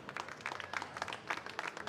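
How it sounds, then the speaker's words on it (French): An audience at a French coffee championship event in Marseille gives a short burst of applause, quiet and distant, with scattered claps pattering unevenly. "Un petit applaudissement pour nos sponsors Or et Platinum"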